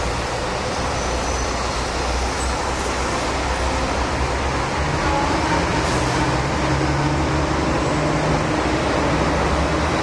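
A Hong Kong tram passing along a busy street, a steady wash of rolling wheels and engine rumble blended with surrounding roadway traffic noise, continuous and fairly loud, with no voices.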